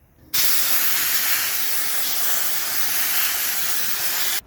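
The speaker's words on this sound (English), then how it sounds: "now we can sandblast that." Sandblasting old paint off a jack gives a steady, loud, close hiss of blasting air and grit that starts abruptly, holds evenly for about four seconds and cuts off sharply.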